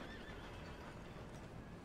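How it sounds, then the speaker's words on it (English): A horse in the Red Dead Redemption 2 video game whinnies faintly amid a dense, steady wash of in-game ambient noise, the call quiet and partly buried rather than standing out. "This isn't Gavin, this is my horse."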